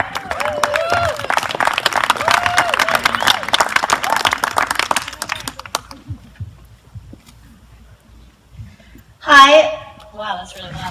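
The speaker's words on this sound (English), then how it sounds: "Give her a round of applause." Wedding guests applaud as bridesmaid Rachel takes the mic, clapping and cheers mixed with loud chatter and a whoop that fade to quiet before a brief voice and a short burst of noise near the end.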